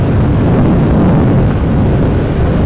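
A Royal Enfield Continental GT motorcycle riding at full speed at about 110 km/h, heard as a steady, loud broadband roar of wind and engine throughout with no talk.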